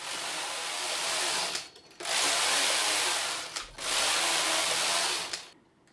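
A knitting machine working 1x1 ribbing on a hooded scarf, its carriage making three long, loud, steady whirring passes separated by short pauses.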